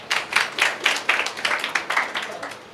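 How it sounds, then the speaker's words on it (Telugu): An audience in a Sunday church gathering claps for three people, a close, fairly loud burst of applause with a steady pulsing rhythm that lasts throughout. "వీళ్ళు ముగ్గురికి చప్పట్లు కొట్టండి."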